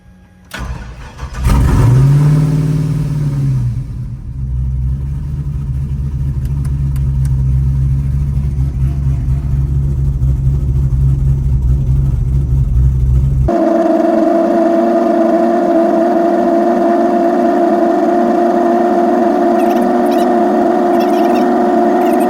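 A car engine cranks and catches, then settles into a steady, loud idle; partway through the tone of the idle shifts and stays constant to the end, with no talking.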